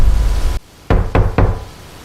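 Three sharp, loud knocks on a door come in quick succession after a sudden drop to near silence.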